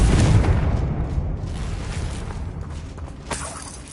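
A Confringo spell blast in Hogwarts Legacy: a loud, deep boom at the start that rolls off into a long rumbling decay, with a smaller crackling burst near the end.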